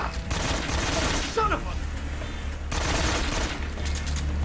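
AK rifle fire in the video game Metal Gear Solid 3 during a boss battle: dense bursts of automatic gunfire, loud and close, breaking off briefly midway before another sustained burst.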